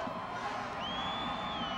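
Large crowd at a Class 7A high school football championship game, cheering and whooping as a dense, faint wash of voices from a distance, with a brief whistle-like tone rising over it.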